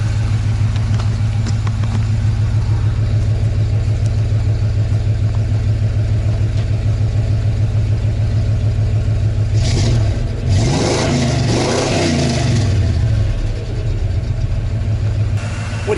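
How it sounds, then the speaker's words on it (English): A tow vehicle's engine idles steadily up close, then revs in a few rising and falling bursts before settling back to a smooth idle, loud and alone with no voices. "let's listen to this thing rev up a little bit."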